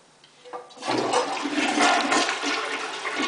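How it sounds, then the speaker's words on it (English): A household toilet flushes close by, opening with a sharp rush of water that swells into a steady swirling gurgle and drain, heard alone without voices. "See, flush it down."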